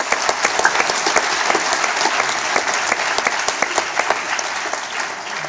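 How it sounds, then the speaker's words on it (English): A concert audience applauds a mridangam player after a Carnatic music performance, a loud, even wash of clapping with sharp individual claps standing out throughout. "give him a round of applause"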